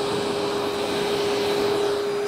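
A vacuum cleaner switched to blowing mode, used as a hair-dryer-style blower while cleaning a Range Rover, roars in a steady, loud, unbroken whoosh with a constant whine throughout.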